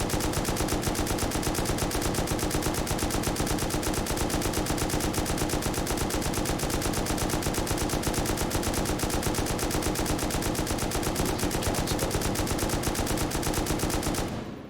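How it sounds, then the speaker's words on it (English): Sustained rapid-fire gunfire from a gun shot into the air in a zombie-themed online video game, a dense unbroken stream of shots lasting about fourteen seconds, loud and close, then cutting off abruptly. "Okay, so firing this up in the air."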